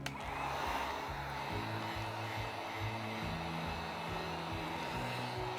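A hair dryer blows heat across a fresh acrylic pour painting, a steady loud whooshing hum that runs continuously with no talking.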